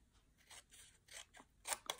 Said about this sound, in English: So then I just took my scissors, my snips,